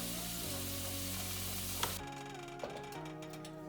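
Potatoes sizzle steadily in a pan for a few seconds, a dense close frying hiss with a couple of faint clinks, then the sound thins out, no voices.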